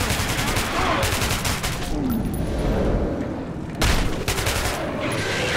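Gunfire in the video game Metro 2033 Redux, rapid bursts of shots crackling in dense volleys with short booming pauses between, loud and close throughout.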